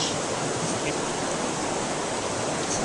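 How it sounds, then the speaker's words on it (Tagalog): Hot spring water pouring down from the mountain at Sitio Mainit makes a steady, dense rushing, like a small waterfall or stream, heard up close. It holds a constant level and never pauses. "Water's coming from the mountain."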